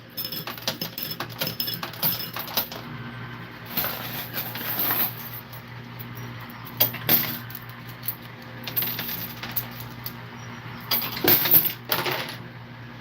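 Coins clatter and drop repeatedly inside a Starfleet Academy coin pusher arcade machine, a busy run of metallic clinks and tumbles over a steady arcade hum, with a few louder cascades near the end.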